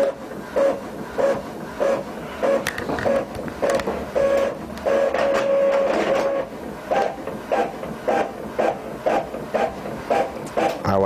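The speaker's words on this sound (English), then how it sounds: "It is printing beautifully. Now you can see the printer is working." An Epson L3150 inkjet printer printing, with rhythmic mechanical whirring and clicking as the print head shuttles back and forth, one longer steady motor whine in the middle, close and prominent.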